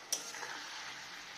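Cauliflower fries in a home kitchen pan, giving off a soft, steady sizzle with a brief clink at the start, heard close and fairly quiet with no talking.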